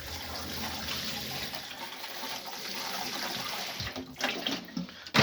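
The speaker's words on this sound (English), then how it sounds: "I'm just going to give these quick water as well." Water pours from a watering can into potted seed potatoes, a steady splashing trickle that runs for several seconds before breaking into a few short, uneven splashes and a sharp knock at the end.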